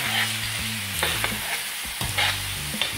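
Squid sautéing with onion and pepper in a pan, giving a steady close sizzle with occasional stirring scrapes and clinks, and no voices.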